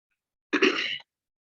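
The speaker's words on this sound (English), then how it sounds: "I don't want to cough in y'all's ear" A single short, harsh cough from a person with lingering chest congestion, close and fairly quiet, surrounded by silence.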